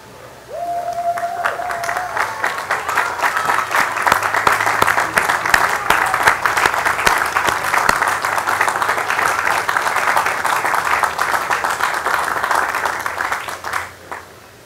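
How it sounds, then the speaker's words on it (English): Large commencement audience at a college graduation stands and applauds their supporters, a dense, steady wash of clapping sustained for about fourteen seconds before tapering off, with a brief tone near the start. "give your supporters a round of applause"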